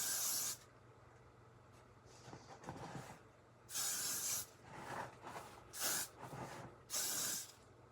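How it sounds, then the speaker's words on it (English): Got2b hairspray sprayed from an aerosol can in short hissing bursts, four or five sprays separated by pauses, close and loud against a quiet room. "Got to Be is the only spray I have"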